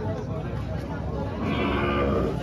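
Goats bleat at a livestock auction market in Lemery, Batangas, their calls mixed with the low murmur of cattle and heard beneath people talking nearby.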